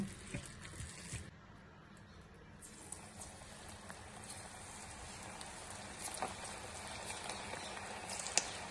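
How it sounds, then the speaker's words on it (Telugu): Cauliflower pakodas frying in hot oil in a pan on a stove, giving a steady close sizzle scattered with small crackles and pops, with no talking over it. "ఆయిల్ వేసిన తర్వాత ఇప్పుడు మనం పకోడీలు వేసుకుందాం."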